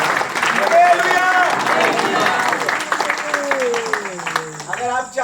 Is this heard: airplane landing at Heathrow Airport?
no